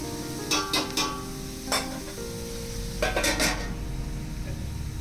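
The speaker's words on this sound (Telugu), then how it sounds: "ఈ విధంగా వేసి చక్కగా గోల్డెన్ కలర్ వచ్చేంత వరకు ఫ్రై చేసుకోవాలి." Food frying in a pan until golden for a village-style fish curry: a steady sizzle and hiss runs throughout, broken by a few sharp clinks and scrapes of a utensil against the pan.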